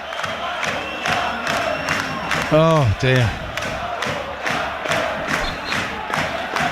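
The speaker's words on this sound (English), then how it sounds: "Again, you can hear the crowd singing his name." Football supporters chanting a player's name at a Morecambe versus York City National League match, a distant rolling crowd drone with a louder shout breaking through, under a close commentator's voice.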